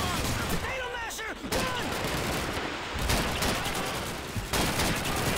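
Rapid automatic gunfire and dense fusillades sound out in a Call of Duty 2 battle at Hill 400. The loud bursts overlap continuously with other battlefield noise and shouting voices.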